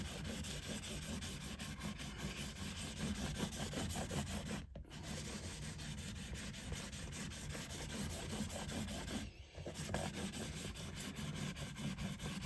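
A Deba knife is sharpened on a stone with a steady, continuous rough scraping and rubbing that carries on close and loud, broken by two brief pauses, with no talking.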